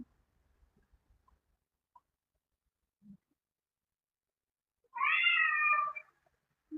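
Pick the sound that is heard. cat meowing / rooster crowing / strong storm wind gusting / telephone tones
cat meowing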